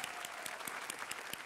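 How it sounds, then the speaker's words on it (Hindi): Audience applause on a Hindi TV karaoke game show, a dense, steady wash of clapping with no voices over it for its short length. "जोरदार तालियां"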